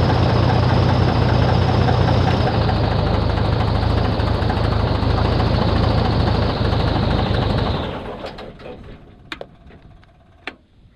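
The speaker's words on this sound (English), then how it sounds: "When the motor starts and turns over, you flip the other mag." Airboat engine runs at a loud, close, rumbling idle for several seconds, then is switched off and spins down, leaving a few faint ticks and knocks in the quiet afterward.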